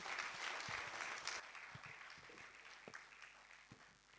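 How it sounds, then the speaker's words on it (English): Audience applause at a postgraduate academic conference, moderate clapping from a seated crowd that thins out into scattered individual claps, heard at a distance in a reverberant hall. "Please clap for him."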